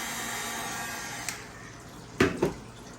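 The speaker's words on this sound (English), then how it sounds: "when I use my heat gun to dry it up" A heat gun blows steadily while drying paint on an Air Jordan 5 sneaker during a restoration, a faint continuous whir broken by a few sharp clicks and knocks near the end.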